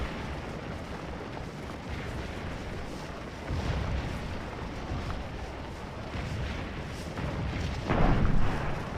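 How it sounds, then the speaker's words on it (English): Cannon fire rumbles through a Gettysburg battle video game, a dense, continuous roar of booming artillery with heavier swells partway through and again near the end, steady and fairly distant. "I just let that artillery keep firing down, I guess"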